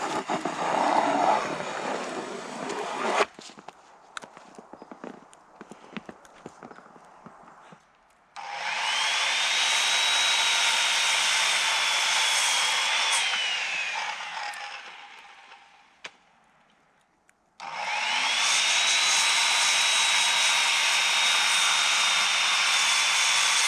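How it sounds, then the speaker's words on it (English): A power saw trims a floor rim joist on an off-grid cabin in snowy northern Minnesota, running in two long, loud, steady whining passes with a short pause between, after quieter handling noises. "Now to trim up the rim joist."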